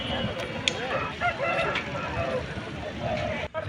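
A rooster at a busy rooster market crows near the microphone amid a clamor of other fowl, with people talking in the background.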